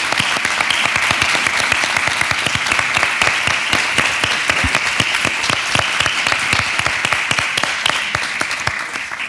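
Dense, loud audience applause at an education week event in Tomiño, many people clapping steadily and continuously throughout with a slight fade near the end.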